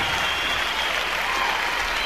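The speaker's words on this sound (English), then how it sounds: "They deserve a big round of applause, don't they?" Dense, sustained applause from a concert audience in 1979, a steady roar of many clapping hands filling the room without letup.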